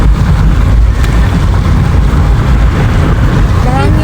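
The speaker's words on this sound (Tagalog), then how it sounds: "Grabe yung hangin guys. Lamig sa hangin." Cold wind buffets an outdoor microphone in a strong, continuous low roar that never lets up, with a faint engine-like rumble underneath.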